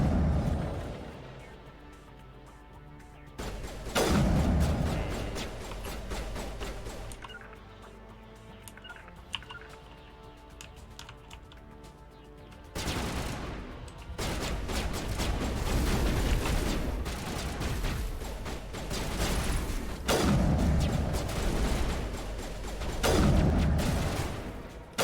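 Gunfire from the Mass Effect video game, with loud bursts of shots and explosive impacts clustered in several dense stretches separated by quieter gaps, up close and without talk.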